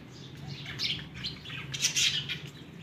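Pet birds, a female with her chicks, chirp and tweet in quick overlapping bursts, close by and fairly loud, with no talking.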